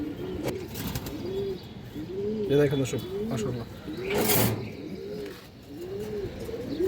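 Pigeons coo repeatedly in soft, rolling calls at close range, several birds overlapping, while someone talks over them.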